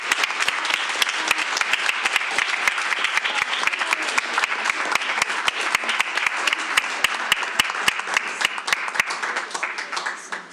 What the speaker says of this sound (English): Can we give a huge round of applause to Senator Karen Kwan?